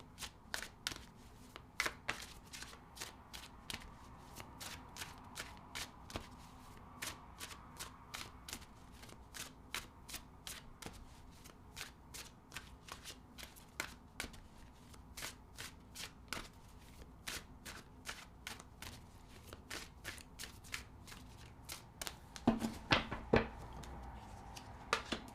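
A deck of tarot cards is shuffled steadily for a long stretch, a dense run of crisp riffling snaps and slides close by, growing louder and busier near the end, with no voices.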